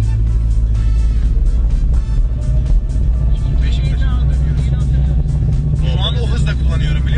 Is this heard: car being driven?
yes